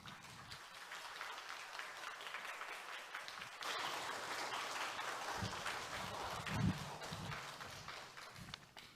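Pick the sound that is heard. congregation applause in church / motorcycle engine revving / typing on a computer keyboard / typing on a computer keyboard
congregation applause in church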